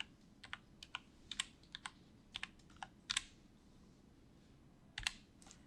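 Quiet typing on a computer keyboard, with irregular bursts of crisp, close key clicks separated by short pauses and a couple of heavier double strikes.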